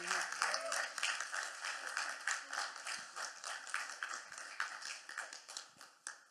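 An audience at a Chaplin Days 2025 screening of a Charlie Chaplin silent film applauds, with close, crisp individual claps forming a steady, moderately sized round of clapping throughout.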